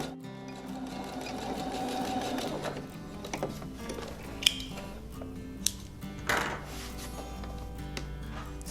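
A sewing machine runs a back stitch on a scarf seam, a steady mechanical whir with rhythmic needle clatter and a few sharp clicks, fairly quiet throughout.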